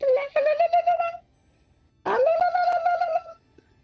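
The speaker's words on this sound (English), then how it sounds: "Phone rings." A telephone rings twice in Harry's shop in a crime-drama scene, two loud, clear, warbling rings separated by a short gap, with no talk.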